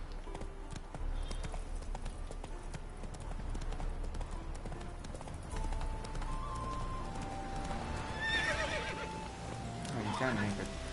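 A horse gallops in The Witcher 3 video game, with steady clip-clop hoofbeats and occasional neighs, accompanied by game music and ambient sounds, while a player talks over the gameplay.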